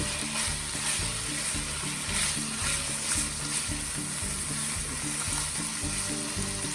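Red pepper flakes and fennel seeds sizzle steadily in a pan as they are mixed, a continuous close frying hiss with soft stirring scrapes and no voices.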